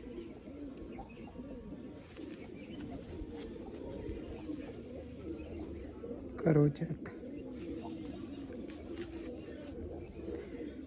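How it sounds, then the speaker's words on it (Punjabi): Large black-headed pigeons coo softly in the background while someone talks over them throughout, with one brief louder sound near the middle. "ਇਹ ਵੱਡਾ ਕਬੂਤਰ ਹੈ ਵੀ ਮਿੱਤਰੋ ਆਪਣਾ"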